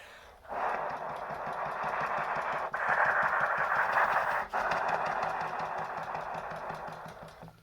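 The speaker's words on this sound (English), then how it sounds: "you can move the trigger rapidly, and that kind of decompresses the air and creates a popping sound as the valve moves" Trombone trigger worked rapidly so the valve makes soft airy popping, heard as a sustained breathy hiss with faint rapid clicking and a couple of brief breaks, quiet and close.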